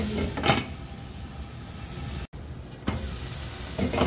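Chicken sotanghon sautés in a pan with a soft, steady sizzle and a few stirring scrapes, quiet and close, with a brief break midway.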